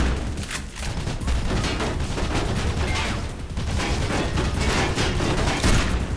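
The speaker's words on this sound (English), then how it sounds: "It's a shotgun." Shotgun blasts from the video game Mirror's Edge, a rapid run of loud, close gunshots with dense battle noise over several seconds and no talking.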